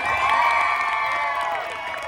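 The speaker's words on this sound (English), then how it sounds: "Everybody cheer!" A street show audience in Jackson Square cheers and whoops together in a loud, brief burst that tapers off after a couple of seconds.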